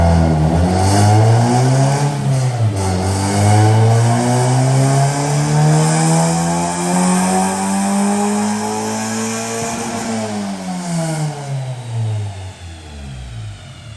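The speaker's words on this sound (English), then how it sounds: "What's wrong with your engine, dog? Said it runs like shit. This is advanced timing." A car engine with advanced ignition timing revs up and down under load, its pitch climbing, dipping and rising again, loud and close with no talk over it.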